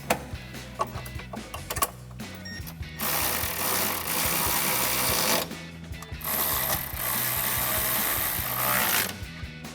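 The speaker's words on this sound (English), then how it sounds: "Then switch to a 10mm socket and wrench for your pinch weld." Ratchet wrench with a socket tightening bolts on steel side step bar brackets of a Jeep Gladiator JT: rapid repeated clicking bursts, then longer sustained ratcheting runs, close and fairly loud, no voices.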